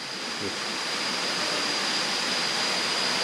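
Saeng Chan waterfall in Ubon Ratchathani, Thailand, roars in the rainy season as a steady, dense, close rush of falling water, with no voices over it.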